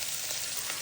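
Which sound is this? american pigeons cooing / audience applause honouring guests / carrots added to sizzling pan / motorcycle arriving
carrots added to sizzling pan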